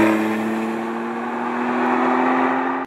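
A Porsche 911 Carrera engine drones at a steady pitch with a strong low hum and smooth harmonics. It holds fairly level, swells slightly toward the end, then cuts off abruptly.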